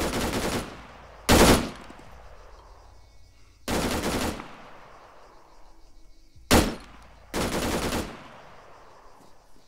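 Gunfire rings out from a town in ArmA 3, four or five loud, separate bursts spaced a second or two apart, each sharp crack trailing into a rolling echo across open ground, with no voices.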